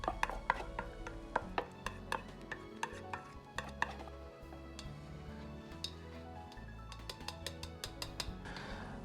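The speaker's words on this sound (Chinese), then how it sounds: "接着保持中小火下入牛肉粒，一定要用筷子像这样搅一下" Chopsticks stirring beef bits into simmering soup for West Lake beef soup over medium-low heat: irregular close taps and clicks against the pot, with bursts of light clattering and a low simmering rumble beneath, no talk.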